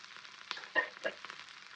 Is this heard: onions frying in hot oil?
yes